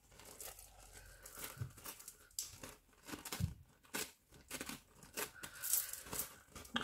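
Paper ripped by hand into pieces for decoupage on upcycled tubs and boxes, a run of close, crisp tearing and crinkling bursts in irregular spurts, quiet and alone.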